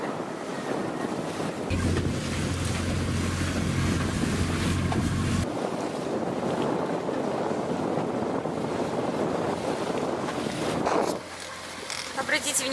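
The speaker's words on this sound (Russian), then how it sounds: "Мы так быстро плывем, как на моторной лодке!" Boat speeding across the sea like a motorboat, engine drone and rushing water with heavy wind buffeting the microphone; a voice talks over the continuous noise.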